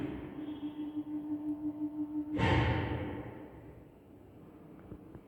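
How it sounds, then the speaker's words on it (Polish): A ZREMB elevator's machine room in a Kraków apartment block, after an Interlift modernization, with machinery giving a pulsing, throbbing hum, then a sudden loud clunk and whoosh that slowly fades into a quieter drone. "a tu mamy od razu maszynownię"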